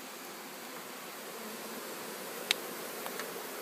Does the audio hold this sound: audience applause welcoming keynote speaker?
no